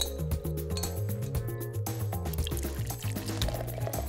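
Vodka pours into a jar packed with chopped peppers, a close, continuous liquid gurgle and trickle over a low background hum.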